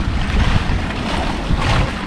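Sea waves wash steadily along a quiet Yellow Sea shore at Yeongheung Island, a dense, continuous surf roar mixed with gusting wind buffeting the microphone, close and loud with no voices.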